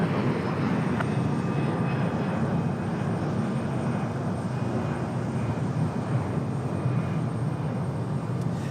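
An Airbus A319 airliner at Raleigh-Durham International Airport gives a steady, loud engine roar that holds evenly throughout with no speech.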